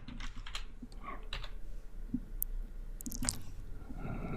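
Typing on a computer keyboard while entering code, a steady run of soft close key clicks with a few louder taps, no talk.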